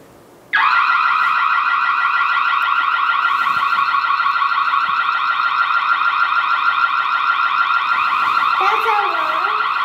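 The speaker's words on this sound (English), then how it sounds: "This is the alarm." Noorio wireless security camera's built-in siren alarm sounding loud and continuous, a rapid warbling electronic wail that starts abruptly and holds steady for several seconds, with a faint voice near the end.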